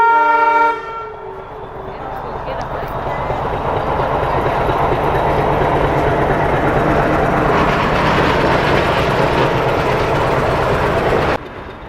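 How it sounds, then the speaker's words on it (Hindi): Metre gauge passenger train passing at a crossing station, a horn blast at the start followed by a loud, sustained rumble and rattle of coaches rolling by close, ending abruptly. "यहाँ पे हमारी क्रॉसिंग होती है मैलानी से आने वाली मीटर गेज पैसेंजर ट्रेन से, जो बहराइच की तरफ जा रही"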